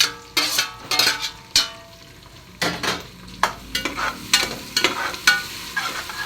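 Onions frying in oil in a pan with green chillies, coriander, curry leaves and mint for home-style biryani, with a steady sizzle and repeated sharp scraping stirs of a spoon against the pan, close by.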